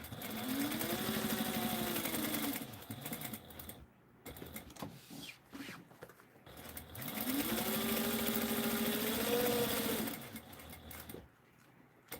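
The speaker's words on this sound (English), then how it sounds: "go on the edge first. Make sure so I don't screw up the top stitching" A sewing machine top stitching along the edge of a piece runs loud and close in two long steady bursts, with a short pause of softer clicks and handling between them, and no talking.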